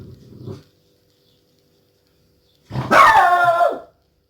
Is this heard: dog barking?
yes